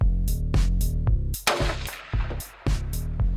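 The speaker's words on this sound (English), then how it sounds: "I shot a little old doe for the can cooker." A hunter's rifle shot at a doe on a ranch, a single sharp blast heard among a run of loud, repeated low thumping bursts.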